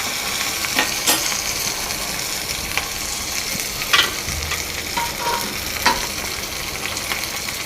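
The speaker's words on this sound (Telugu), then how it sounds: "ఎప్పుడైనా అటు ఇటు తిప్పుతూ ఇవన్నీ కొంచెం వేగేంత వరకు" Green chilies and tempering sizzle in hot oil in a pan with a dense, steady crackle, while a spatula tosses them back and forth with occasional sharp scrapes.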